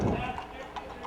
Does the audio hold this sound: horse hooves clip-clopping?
yes